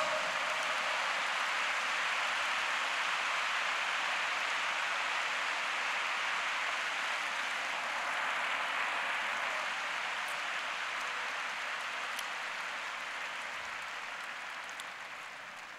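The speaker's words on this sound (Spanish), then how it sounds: "Ahora ese aplauso fuerte para nuestro Dios." Loud, sustained applause from a church congregation during a sermon, a dense steady wash of clapping that carries on unbroken for the whole stretch, gradually easing slightly toward the end.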